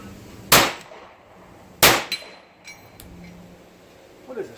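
Airsoft blowback rifle with its factory magazine firing two sharp shots about a second apart, each a loud crack with a quick mechanical clack, followed by faint handling clicks.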